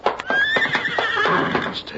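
The horse Silver whinnies loudly and shrilly over clopping hooves, close and continuous for a couple of seconds, with voices talking over it in an old radio drama.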